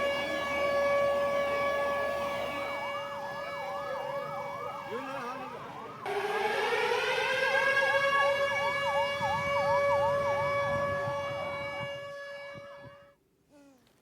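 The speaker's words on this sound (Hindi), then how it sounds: "रात 8:30 बजे शहर के तमाम जगहों पर सायरन बजे" Air-raid sirens wail across a Rajasthan city at night during a blackout mock drill. Several loud, overlapping sirens rise and fall in long sweeps, with faint traffic underneath, until they cut off near the end.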